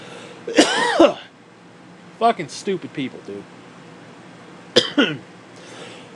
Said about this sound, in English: I got a fucking cough I can't get rid of either.